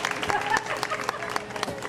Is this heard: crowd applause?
yes